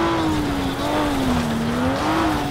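Car spinning out in the FlatOut Retro racing game, a sustained tire squeal wavering over a steady engine drone for a couple of seconds, loud and close with no talking.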